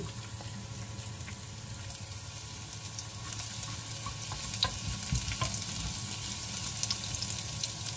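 Garlic fries in hot cooking oil with a soft, steady sizzle and scattered small pops and crackles that grow slightly busier toward the end.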